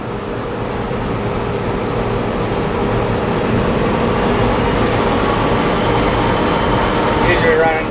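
A combine harvester's corn head running at full speed, a loud, steady mechanical roar with a continuous low drone and whirring that holds constant throughout.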